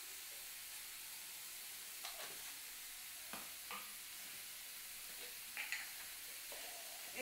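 Onion-tomato masala for egg curry sautés in a pan with a soft, steady sizzle, broken by a few brief scraping stirs of the spoon; quiet and close, with no voices.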